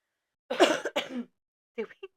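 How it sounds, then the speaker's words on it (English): Two harsh coughs in quick succession, close and fairly loud, followed by a brief quieter vocal sound after a pause. "Did we jinx on our cough?"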